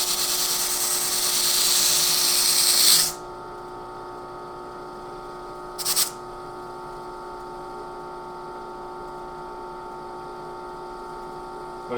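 An abrasive disc sands a pinball ball guide from The Shadow at 180 grit, making a steady whirring grind for about three seconds before it stops. A brief burst follows a few seconds later over a low background hum.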